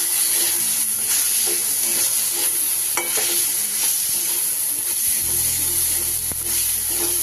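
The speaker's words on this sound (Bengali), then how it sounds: "সুন্দরভাবে কষিয়ে নেব যতক্ষণ না টমেটোটা গলে যাচ্ছে" Chopped tomatoes sautéing with salt in a pan over low gas heat, a continuous close sizzle with occasional stirring scrapes and no voices.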